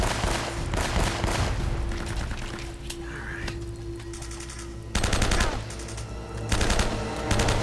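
Automatic gunfire in the action game Uncharted: Drake's Fortune, loud sustained bursts of shots with brief lulls, the firing swelling again near the end.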